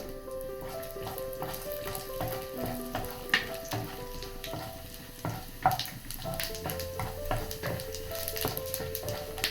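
Onions and spices frying in a pan of oil with roasted peanuts while making upma, a soft steady sizzle broken by clinks and stirring scrapes, close and fairly quiet with no talking.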